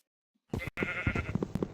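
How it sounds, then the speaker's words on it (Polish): A sheep in the Minecraft video game bleats in a short, clear, wavering cry that starts abruptly after a moment of silence and carries on for about a second. "O, owca, owca, dobra."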